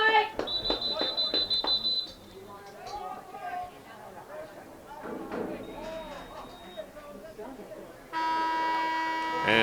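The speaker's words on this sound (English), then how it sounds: "there's the buzzer for the end of the game" A long electronic buzzer sounds loud and steady at the end of a high school boys' varsity lacrosse game, following crowd chatter and a commentator's voice.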